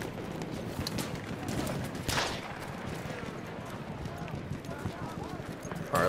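Horse hooves clip-clopping in the Battlefield 1 video game, a quick steady run of hoofbeats under game noise with occasional bursts like distant gunfire.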